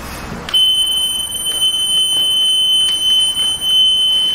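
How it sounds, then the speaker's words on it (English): A conventional fire alarm strobe sounder base, powered at 24 volts from a control panel, emits a loud, steady, high-pitched electronic tone that holds continuously after switching on. "So now we will turn on the panel and see the working of this sounder base."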